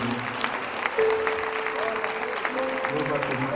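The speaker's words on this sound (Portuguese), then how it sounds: "Você se aplauda para a glória do Senhor" Applause from the congregation at an evangelical Christian military congress in Brazil, a steady mass of clapping mixed with voices and sustained musical tones.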